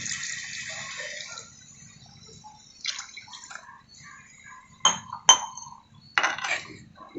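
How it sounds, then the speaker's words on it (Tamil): Water rinsed from a mixer jar is poured into a pot of chicken kurma, a short splashy pour followed by a few sharp clinks of metal utensils against the pot in a quiet kitchen. "இப்போ சிக்கனுக்கு தேவையான அளவு தண்ணி சேர்த்துக்கலாம். மிக்ஸி ஜாரை கழுவி அந்த தண்ணியை சேர்த்துருங்க."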